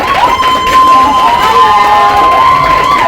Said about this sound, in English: A round of applause for Manuela.